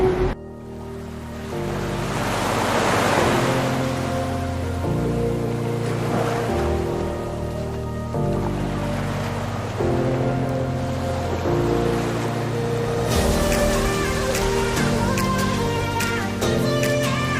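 Ocean surf at a beach in Mirissa, Sri Lanka rolls in steady washes, broad and continuous, partly under a layer of music.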